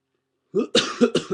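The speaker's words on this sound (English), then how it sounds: "again I'm coughing because I'm sick" Several quick, harsh coughs in a short burst, close and fairly loud, with no talking.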